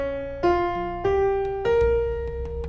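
Three successive notes ring out, each entering cleanly and sustaining over a low bass note, forming a chord from the Japanese In scale with a dark, pentatonic harmony.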